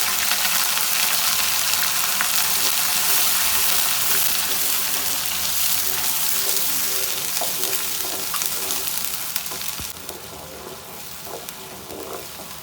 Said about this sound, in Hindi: ज़्यादा फ्राई नहीं करना, बस हल्का सा हम इसको फ्राई करेंगे।